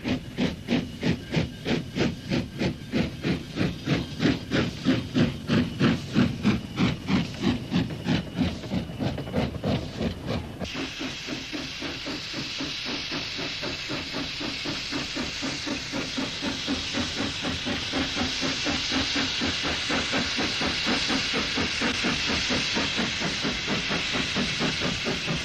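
A grimy austerity steam locomotive pulls an empty train toward a colliery, its heavy, rhythmic exhaust beats chuffing loudly at first, then giving way to a steady roar of hissing steam as it passes on, with no talk.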